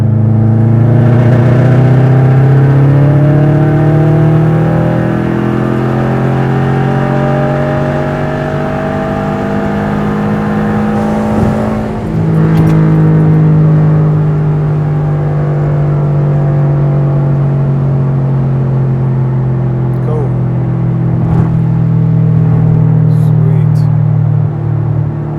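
A car with a homemade MAC boost-control valve pulls at full throttle, its engine note rising in loud, sustained revving harmonics up through the gears, with a brief dip partway and only sparse background noise.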